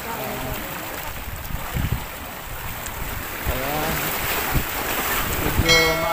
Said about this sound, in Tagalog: Ayan, yung mga tubig dito, nag-iingay.